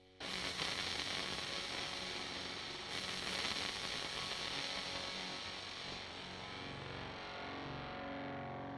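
Faint residual hiss and fizzy distortion left when a real Friedman amp and its NAM capture play together with one phase inverted, a quiet steady wash of sizzle with a brief swell near the start and middle.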